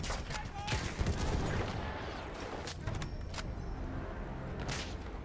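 Gunfire in a Battlefield match on the Brusilov Keep map, with rapid rifle shots and bursts crackling throughout, mid-distance and fairly steady, alongside sharper individual reports and occasional game voice chatter.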